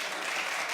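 Studio audience at a daytime talk show clapping briefly, a soft, even wash of applause heard for under a second with no speech over it.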